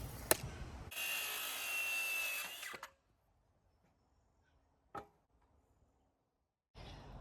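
A power saw cuts wooden decking boards to length during a vintage caravan restoration, one loud buzzing cut lasting about two seconds, followed by quiet with a single clack and the saw starting again at the end.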